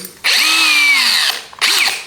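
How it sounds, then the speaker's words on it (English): A power drill whines loudly at high speed boring a 3mm pilot hole, pitch dropping slightly under load, then stops briefly and spins up again for a short burst. "Just put a 3mm pilot through."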